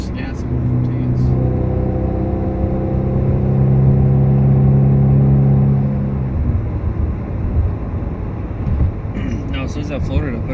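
A turbocharged four-cylinder Chevrolet Camaro running E85 accelerates, its engine note rising in a strong droning pull for several seconds before easing off, heard from inside the car with a voice talking toward the end.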